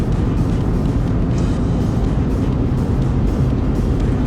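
A 2021 Audi Q3 engine held at high speed near its 215 km/h limiter on a test drive, a steady loud drone of engine, road and wind noise with no break and no talk.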